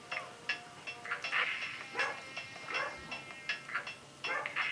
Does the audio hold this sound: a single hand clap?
no